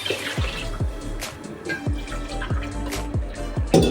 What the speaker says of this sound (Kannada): ಲೋಟ ನೀರು ಹಾಕಿದ್ವಿ ಅಂದರೆ ಅದು 1/4 ಲೀಟ್ರ್ ಲೋಟ ಅಲ್ವ ನಮ್ಮದು.